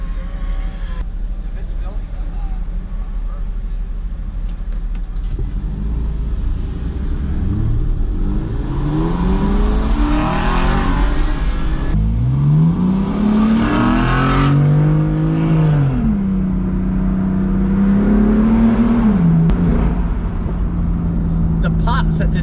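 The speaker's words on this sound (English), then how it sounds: "The pops that this exhaust can do is quite incredible." An Aston Martin V8 Vantage and a BMW M4 on Tennessee mountain roads, engines and exhaust revving up and falling back in repeated close, loud sweeps as the cars accelerate and shift.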